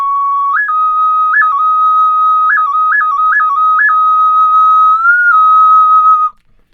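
A replica pre-Hispanic clay whistle modeled on one found in Michoacán plays loud and close, a steady piercing tone with quick upward chirps and a short rising bend before it cuts off.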